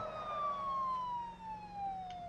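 Police car siren in a video game, a single long wail sliding steadily downward in pitch, fairly faint over a low engine rumble, with no talk.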